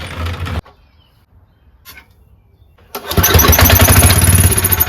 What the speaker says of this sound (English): I shot some stuff into it, and it actually turned over and fired up